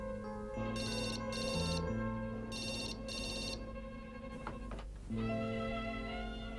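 A telephone rings in repeated bursts of electronic bell tones, moderately loud and close, with short gaps between rings and a brief rustle near the end before the ringing resumes.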